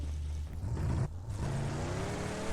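A car driven in a video game runs as a steady low engine drone with a brief dip and a short rising rev, heard alone without talk.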